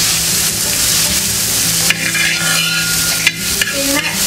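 Sliced onions fry with salt in an uruli pan for kappa biryani. A dense, close sizzle runs throughout, broken by a few sharp scraping knocks as the onions are stirred.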